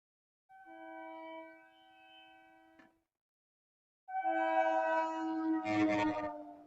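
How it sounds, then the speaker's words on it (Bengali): At a railway level crossing, a train sounds two tonal blasts: a steady ringing horn, a short gap of silence, then a louder, fuller blast with a rumbling edge at the end. "ট্রেন আসছে।"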